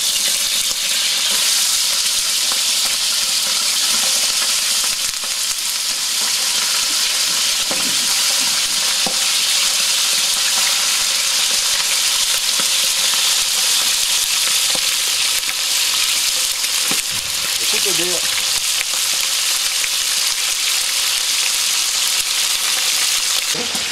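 Chicken meat sears and fries in a very hot pan over strong fire, a steady loud sizzle and hiss lasting throughout with occasional stirring scrapes and no talking.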